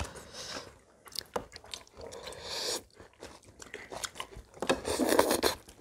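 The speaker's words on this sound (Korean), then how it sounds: "자, 무청을 한번 먹어볼까나?" Someone chews cooked radish greens with rice close to the microphone, making wet, crunchy bites and squishy mastication in uneven bursts with brief pauses.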